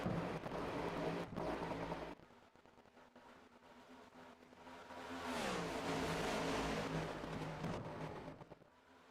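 Race cars in the iRacing video game speeding down the back straightaway at Daytona International Speedway, engines roaring past with a rising then falling pitch sweep as one car closes in and passes, fading afterward.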